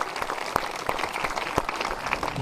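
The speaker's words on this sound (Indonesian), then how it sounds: "tepuk tangan yang meriah bagi Tuhan." A church congregation claps loudly together, a dense, lively burst of applause with a few sharp individual claps standing out, briefly and close.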